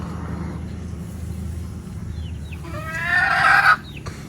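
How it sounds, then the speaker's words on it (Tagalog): A rooster crows near the end, loud and close, over quieter background clucking and low ambient noise. "may mga manok dito nakakulong"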